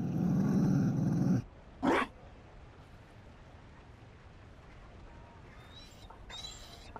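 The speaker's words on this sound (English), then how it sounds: "You found a dog? They don't breed Mabari in Olay." A Mabari war dog in the fantasy game Dragon Age growls loudly in a low, rough burst lasting over a second, then gives one short yip or bark, followed by quiet room ambience.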